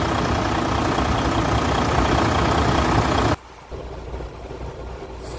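A Freightliner Cascadia truck engine runs with its clutch fan engaged, giving a loud, steady broadband roar that cuts off sharply partway through and leaves a quieter engine idle.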